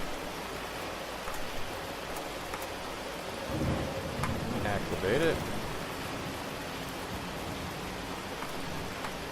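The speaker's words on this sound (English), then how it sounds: "Man, it's pouring rain out here. Oh, it's a thunderstorm, that's why." Pouring rain with rolling thunder in a Cataclysm DDA thunderstorm, a steady broadband hiss throughout with a low rumble swelling in the middle; a voice speaks briefly over it.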